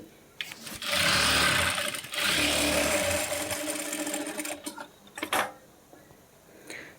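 A sewing machine runs close up, stitching blouse lining onto the back of an embroidered blouse in two steady bursts of about four seconds in total, followed by a few light clicks and handling sounds.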